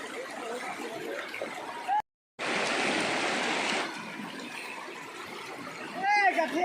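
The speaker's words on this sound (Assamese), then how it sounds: "একদম হিলেৰে বাগৰি অহা নিজৰাৰ পানী" Fast-flowing mountain stream water near New Kherem in Namsai district, Arunachal, makes a steady broadband rush that briefly cuts out, then returns louder for a short surge and eases back, with a faint voice near the end.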